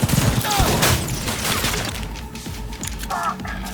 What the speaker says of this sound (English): it's a smart sniper rifle, and it's pretty cool